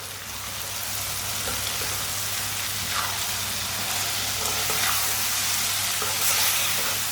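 Okra masala with tomatoes sizzles steadily in a pan while it is stirred, with a constant hiss of frying and a few light scraping strokes, close and without talk.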